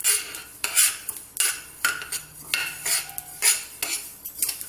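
Black sesame seeds dry-roasting in a pan while a metal spoon stirs and scrapes them, giving a close, rhythmic series of clinks and rattles roughly every half second with no talk.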